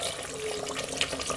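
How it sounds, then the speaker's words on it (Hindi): Water is poured into a pressure cooker holding onions for a Kashmiri onion mutton curry, a brief steady splashing gush heard close up. "इसमें डाल दो जी पानी"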